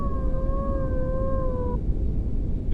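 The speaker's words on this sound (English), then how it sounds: "You can hear the barking dogs there, the hydraulics." The hydraulic power transfer unit of an Airbus A320 or A321neo in a flight simulator gives a sustained whining, howling drone with overtones that cuts off after under two seconds over a steady cabin rumble.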